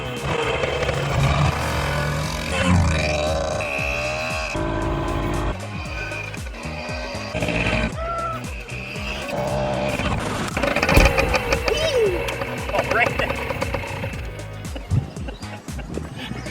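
A motorcycle ridden after refuelling revs and rumbles, its engine rising and falling through gear changes, loud and close with some wind noise across the ride.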